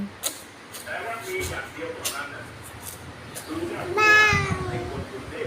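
A voice imitates a cat, giving a drawn-out meow after some background chatter and noise.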